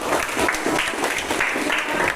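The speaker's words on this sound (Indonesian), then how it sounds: "Oke, kita beri tepuk tangan." An audience claps steadily and loudly for a group's classroom presentation, a dense, even patter of many hands with no talking over it.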